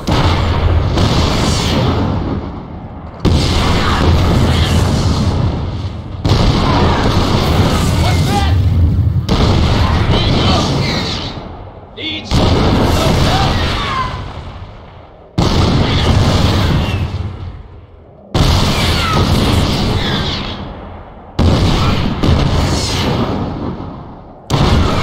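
Siege tanks in StarCraft II shell Protoss cannons, producing loud, heavy booming blasts in a steady series of about eight long, rumbling explosions, each decaying before the next.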